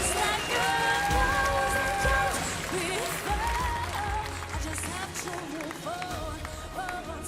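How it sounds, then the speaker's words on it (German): Audience applause for the singer at a Swiss Eurovision Song Contest 2018 selection show, a steady wash of clapping under loud stage music with sustained tones, fading slightly toward the end. "Und nochmal einen grossen Applaus."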